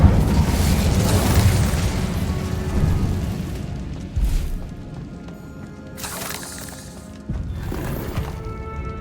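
Incendio fire spell in the Hogwarts Legacy video game, heard as loud rumbling booms and fiery bursts within a continuous dense wash of game combat noise, with sharper blasts partway through.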